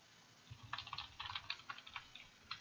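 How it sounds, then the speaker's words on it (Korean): Rapid bursts of computer keyboard key presses, close and fairly quiet, in uneven clusters with no voices. "키를 막 눌리고 있어요, 제가."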